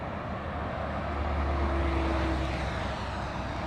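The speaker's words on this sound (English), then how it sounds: "Delta coming into touchdown" A Delta airliner arriving from Dallas DFW touches down at LAX with a steady, broad jet-engine roar that swells slightly and then eases, heard from a distance with no voices.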